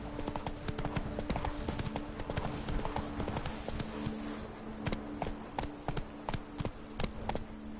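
Hooves of Roach, Geralt's horse in The Witcher 3: Blood and Wine, clip-clop in a steady galloping rhythm up close, over a constant buzz of insects and crickets in the countryside.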